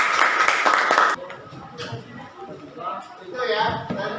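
A short, dense burst of classroom clapping for a student group lasts about a second, then stops abruptly as a teacher carries on talking.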